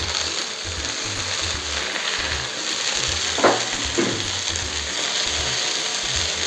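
Chopped tomatoes drop into a pan of roasting peanuts, giving two brief soft splats over a steady low sizzle and faint scraping, fairly close and with no talk.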